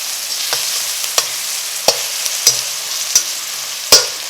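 A pan of minced garlic sizzles steadily with a bright hiss, punctuated by about eight sharp pops and clicks of stirring spread unevenly across the sound, close and moderately loud with no voices.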